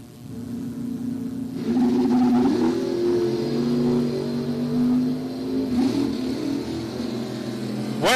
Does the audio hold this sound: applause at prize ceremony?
no